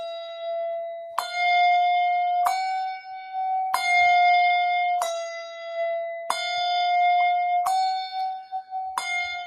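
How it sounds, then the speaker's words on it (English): A single handbell is rung over and over in a right-hand and left-hand ringing exercise: seven clear strikes of the same pitch, about a second apart, each ringing on until the next. "And then I go back to the same bell on the right hand."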